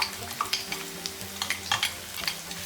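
Ground coconut paste with cumin and bird's eye chilli is poured into a hot pan for a drumstick-leaf rasam, then stirred, giving a soft sizzle broken by close spoon scrapes and taps.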